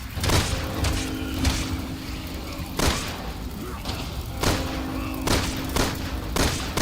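Repeated gunshot blasts ring out at irregular intervals over a steady rumbling background, loud and punchy video game gunfire from Resident Evil 6, with no talking.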